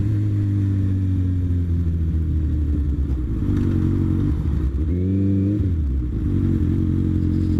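Small motorcycle ridden with the rider tucked down, engine droning steadily at close range, then revving up through climbing pitch and dropping back before holding speed again, with wind noise beneath.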